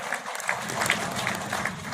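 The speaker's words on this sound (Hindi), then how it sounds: "उनका जोरदार तालियों के साथ अभिनंदन किया जाए" Audience applause at a gathering in Niradhardham Ranasar, a steady wash of many hands clapping at moderate level, continuous for the full two seconds.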